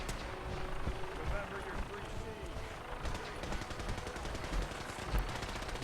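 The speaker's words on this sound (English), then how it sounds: "Why are they shooting at the vertibird?" Rapid gunfire in the video game Fallout 4 aimed at a vertibird, dense continuous bursts of shots under a speaking voice, fairly quiet.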